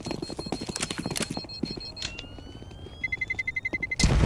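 Footsteps sound during a Counter-Strike match as rapid, rhythmic clicks that run in a quick cadence. Brief electronic beeps and tones are mixed in, and a louder burst comes at the end.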